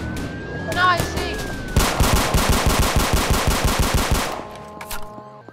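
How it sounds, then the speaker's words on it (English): Rapid automatic gunfire in the Roblox game Maple County rattles in a fast, even burst of about twenty shots, preceded by a siren tone and scattered single shots, with a voice briefly talking early on. "There's shots being fired!"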